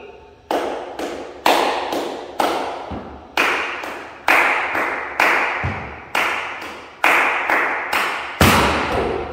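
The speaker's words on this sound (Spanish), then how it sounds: "estamos con las palmas aquí" Flamenco palmas handclaps beat out a slow bulerías remate, sharp and close, with about a dozen ringing claps in a steady rhythm, some paired quickly, each leaving a short decay.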